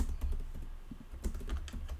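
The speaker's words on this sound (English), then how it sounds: "This is all live, you can hear us typing." Live typing on a computer keyboard, quiet irregular key clicks in a rapid uneven rhythm, close but soft, with no talking.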